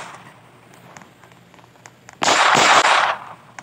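Gunfire in the Roblox game Brookhaven: a loud, dense burst of rapid shots lasting under a second, erupting after a quieter stretch of faint game background.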